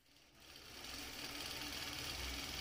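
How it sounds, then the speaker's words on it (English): A long arm quilting machine stitching a pantograph across a throw-size quilt hums up to a steady, even mechanical whir with a fast stitching pulse, fairly faint and alone. "I'm going to move you over to the long arm as I quilt a little bit on this quilt"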